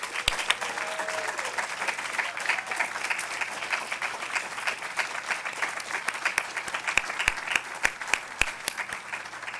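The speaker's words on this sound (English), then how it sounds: "let's just give one more round of applause to all of our award recipients" An audience at an alumni awards event gives a steady round of applause for award recipients, dense hand clapping filling the room with a few sharp nearby claps standing out.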